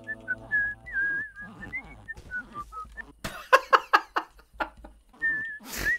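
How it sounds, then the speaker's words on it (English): A character whistling in the Metal Gear Solid level of the What the Golf video game: a wavering, tuneful whistle in short phrases, with a burst of snickers and laughs midway and a last whistle near the end. "I love the touch of him whistling as the box."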